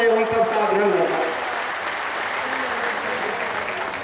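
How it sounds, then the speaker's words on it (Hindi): Applause welcoming minister Nitin Gadkari at a public event in Muzaffarnagar, a broad, steady wash of clapping with a voice speaking over it at the start before the clapping carries on alone. "एक बार जोरदार तालियों की गड़गड़ाहट से आप उनका स्वागत करें"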